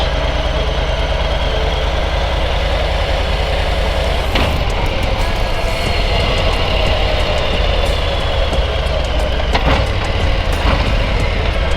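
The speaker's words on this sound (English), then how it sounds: "As I approach a stop, slowing down, start to gear down, back into first gear." A motorcycle engine runs loudly and steadily close by as the rider slows toward a stop and shifts down through the gears, with brief changes in the engine note partway through.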